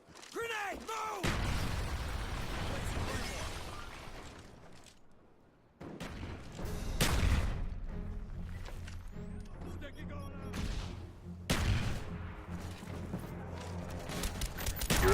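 Call of Duty: Black Ops search-and-destroy gameplay, with bursts of gunfire and grenade blasts over a mechanical clatter and shouted in-game voice callouts, loud and busy with a brief lull midway.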